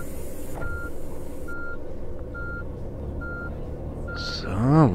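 Repeated reversing beeps from a tour bus backing up in Tourist Bus Simulator, steady evenly spaced tones over a constant engine drone, ending with a rising whine and a hiss.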